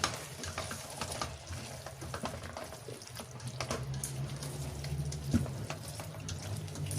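Chicken stroganoff with ketchup being stirred in a pan, a steady low sizzle and frying hiss with light scraping of the spoon, fairly quiet and without talk.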